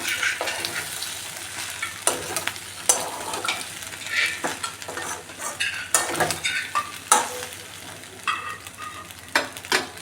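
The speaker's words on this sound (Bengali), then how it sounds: "এবার ভালো করে মিশিয়ে নেব।" Chinese-style pasta with fried egg and chicken stirred in a sizzling pan, repeated scraping strokes and clinks of a utensil over a steady frying hiss, uneven bursts close by, no speech.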